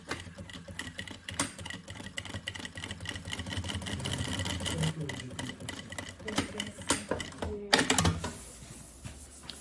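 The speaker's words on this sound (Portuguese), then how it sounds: "fazemos então agora uma costura pé de máquina" Sewing machine stitching the lining of a bunny-shaped backpack, running in quick rattling bursts of needle strokes with brief pauses and a sharper clack near the end, close and fairly quiet, with no talk.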